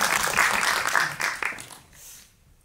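Applause from a theater audience for an actor at a special GV screening of the film 'Paran', a dense burst of clapping that thins and fades out by the end.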